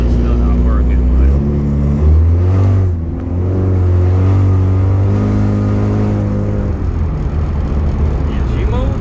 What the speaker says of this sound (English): This ecoboost make her move from that 90 horsepower BS that used to be in here.